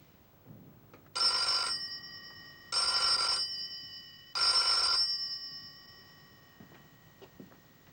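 A telephone rings three times in a quiet room. Each bright electronic ring lasts about a second, separated by pauses, and the last one trails off into near silence.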